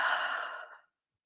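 A single slow exhale out through the mouth, soft and breathy, fading away within a second to silence.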